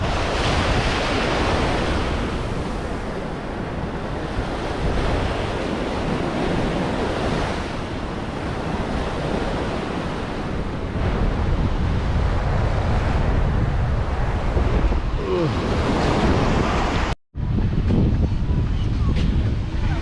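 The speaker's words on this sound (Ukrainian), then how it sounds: "Хвилі такі непогані бачу." Steady roar of large ocean surf breaking on a beach in Sri Lanka, continuous and loud with rushing wind noise over the microphone, briefly cutting out near the end.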